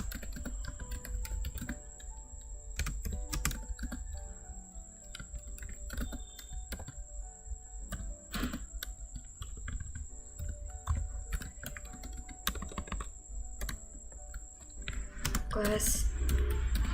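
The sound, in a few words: typing on computer keyboard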